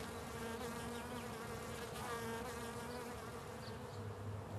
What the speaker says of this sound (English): For John Miller, the sound of bees is the sound of money.